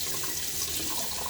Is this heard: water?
yes